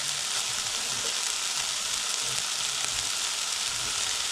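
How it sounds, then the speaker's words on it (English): Chilli, garlic and chorizo sausage frying in a pan, a constant close, loud sizzle with light crackling that continues evenly without talk. "I'll just let that chilli and garlic and sausage cook off for about 2 minutes."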